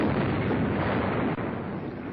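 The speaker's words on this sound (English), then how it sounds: "Grosse bombe arrivano a segno." Big bombs exploding on a merchant convoy during a WWII air raid on Operation Pedestal to Malta, heard as a continuous, muffled, rumbling roar of blasts in old archival film sound.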